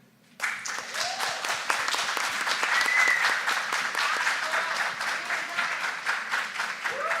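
An audience at a health awareness talk breaks into sudden, sustained applause, many hands clapping densely and steadily after a brief quiet start.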